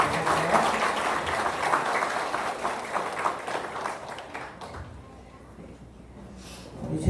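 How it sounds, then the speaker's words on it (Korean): Guests at a wedding reception worship service give a round of applause for the couple, a moderate crowd patter that gradually fades into a quiet room before a loud thump at the end. "축복의 박수 하겠습니다."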